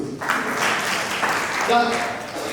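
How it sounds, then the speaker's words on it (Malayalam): An audience claps in a steady wash of applause lasting a few seconds, with voices talking over it. "നല്ലൊരു ക്ലാപ്പ് കൊടുത്തു"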